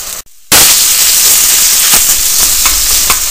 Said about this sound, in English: we're going to start by browning our meat along with our challot